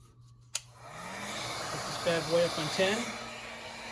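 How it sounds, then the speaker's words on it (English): Heat gun warming undercoating on a vehicle, a click then a steady rising blowing whoosh held close, with someone speaking over it. "one for the scraper and one for the heat gun."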